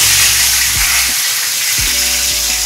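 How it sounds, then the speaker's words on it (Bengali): Dried red chillies and bay leaves crackle as they temper in hot oil, a steady close sizzle with a few sharp pops and stirring knocks across the short stretch, no voices. "তেল গরম হয়ে গেছে, শুকনো লঙ্কা, তেজপাতা ফোড়ন দিলাম"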